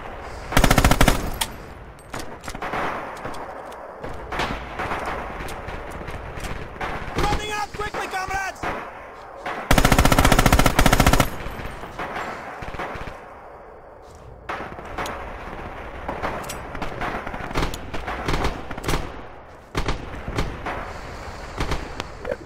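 Machine gun fire in the WWII shooter Red Orchestra 2: Last Stand: loud, dense bursts of automatic fire that come back again and again, with sharper shots and a brief pause partway through.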